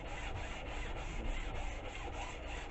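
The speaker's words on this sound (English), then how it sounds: "So sand a little bit" Hand sanding a metal square, a steady rhythmic rasping of abrasive strokes, close and fairly faint, with no voices.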